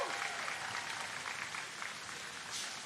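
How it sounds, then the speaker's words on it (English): Applause from a community college commencement audience for the president, a broad wash of clapping that starts full and slowly thins, heard at a moderate distance. "you did good with that applause there without any kind of a cue"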